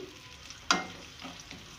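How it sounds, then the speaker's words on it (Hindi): Onions dropped into hot oil for keema methi, frying with a steady close sizzle and one sharp burst as they hit the pan, then softer stirring scrapes. "प्याज को मैं गोल्डन ब्राउन करूँगी।"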